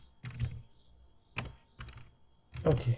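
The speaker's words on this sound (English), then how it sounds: "okay, I'm going to type." A few sharp keystrokes on a computer keyboard while a password is entered, scattered taps in small clusters with quiet gaps, close and fairly soft.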